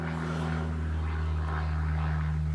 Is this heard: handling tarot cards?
no